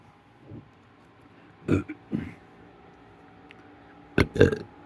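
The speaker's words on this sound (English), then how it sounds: "Sorry for burping, but I ate some pizza Coke" A couple of short burps break an otherwise quiet stretch, close and fairly soft, with a throaty grunt or two between them.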